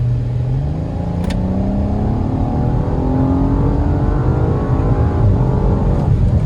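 A V6 car engine revs up through rising gears, a deep throaty growl climbing steadily in pitch, loud and close, with no talking.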